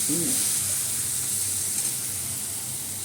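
Onions sautéing under a lid in a covered pan give a steady, close sizzle with a soft frying hiss throughout, and no voices.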